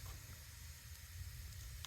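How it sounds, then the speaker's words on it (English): Wood fire crackling and sizzling inside the stove of a tin hunting shack, a steady low hiss and rumble with faint pops, close and continuous, no voices. "Everything's burning pretty good, but it's, you can hear it sizzling"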